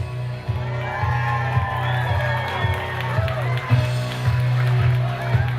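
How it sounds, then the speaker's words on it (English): Wedding guests clap and cheer in a steady, sustained wash of applause with whoops over low background music. "Let's give them a round of applause."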